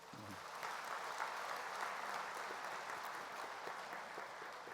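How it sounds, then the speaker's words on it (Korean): A church congregation at an opening worship service claps together, a soft, steady patter of applause heard somewhat distant and fairly quiet, following a brief low vocal sound. "박수 한번 하세요"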